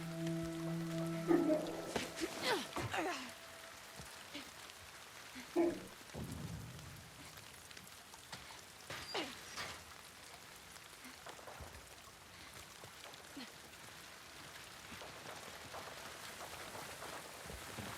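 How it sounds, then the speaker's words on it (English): Steady soft rainfall patters down in the survival game Grounded, a faint continuous wash with scattered drop ticks, briefly overlapped early on by tonal game sounds and a few thuds. "Sound of the rain in this game is very soothing to me."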